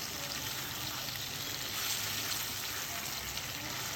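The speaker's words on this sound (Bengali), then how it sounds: "আলুগুলো দিয়েও আবার একটু ভেজে নেব" Potatoes frying with fish in a pan give off a steady, even sizzle that stays close and fairly quiet throughout, with no talking over it.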